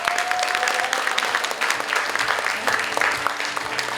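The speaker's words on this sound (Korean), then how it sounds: "오늘 시간이 유익했다면 저희 마지막으로 박수 한번 부탁드려도 될까요?" An audience at the close of the 2025 forum applauds, dense steady clapping from a crowd filling the hall for the full stretch.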